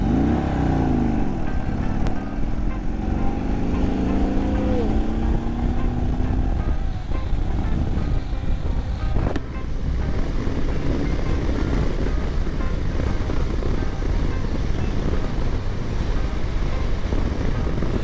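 A 2024 Harley-Davidson Road Glide motorcycle on a test ride, its engine droning steadily and close throughout with a couple of rising and falling pitch sweeps early on, heavy wind rumble underneath.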